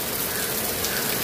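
Heavy rain falls at a poultry farm, a dense, steady wash of rain noise with no voices.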